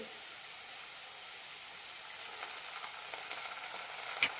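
Chicken and cabbage sautéing with Kashmiri chilli powder, tomato sauce and chilli sauce, a soft continuous sizzle with occasional stirring scrapes, moderately quiet and steady, with a sharper clink at the close.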